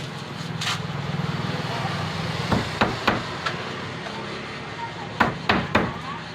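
Hammer blows on a household job, a few sharp strikes around the middle and a quick cluster of three near the end, moderately close over a low background hum.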